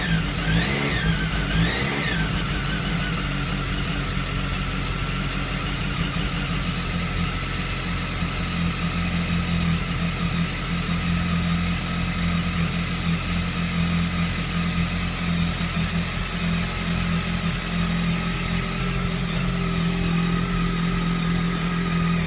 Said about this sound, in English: at the beginning it's not going to be running super smooth because the bike isn't warm yet